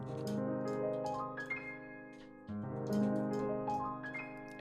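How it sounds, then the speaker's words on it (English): A piano plays two quick rising runs with the sustain pedal held, notes blurring and ringing together, close and moderately soft, with no talk. "And if you do it with the sustain pedal, it sounds like this."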